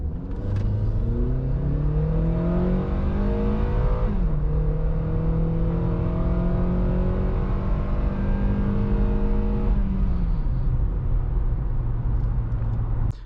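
A 2012 Acura TSX in sport mode pulls away from a stop, its engine revving up loudly through a gear with a brief dip at the shift, then climbing again before easing off near the end.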